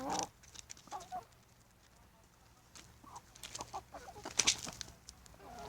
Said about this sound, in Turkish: Şöyle gördüğünüz gibi tavuklarımız